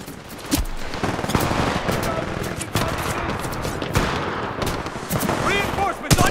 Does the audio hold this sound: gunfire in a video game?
yes